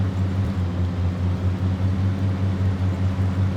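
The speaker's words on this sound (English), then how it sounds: "Engine sounds nice." The diesel engine of a Massey Ferguson 7700 tractor in Farming Simulator 22 runs at a steady, loud, close drone with a deep, even throb and no voices over it.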